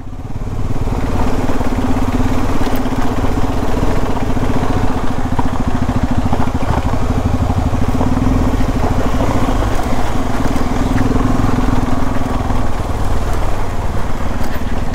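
A motorcycle engine labors loudly and steadily at low revs in first gear climbing an offroad slope, droning close for the whole stretch without easing off.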